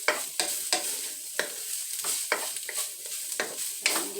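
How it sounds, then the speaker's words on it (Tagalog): Ground chicken sautéing for spaghetti in a pan, a soft continuous sizzle broken by repeated scraping stirs of a utensil at an uneven rhythm, close and fairly quiet with no voices. "Gisa-gisa lang ng konti."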